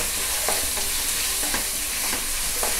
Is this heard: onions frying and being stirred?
yes